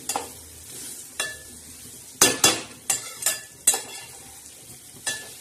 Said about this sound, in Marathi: असं एकजीव असं मस्त हलवायचं